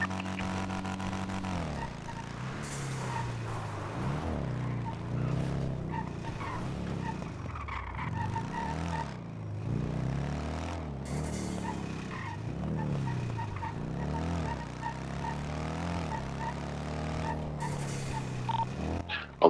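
A motorcycle in GTA V roleplay drones steadily throughout, its engine pitch sweeping up and down as it revs and shifts, with a tire-squeal edge and no break in the sound.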